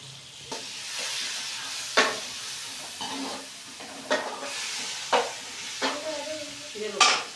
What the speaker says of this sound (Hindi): मेरी गुड़िया ने देखो प्याज को अच्छी तरह भून लिया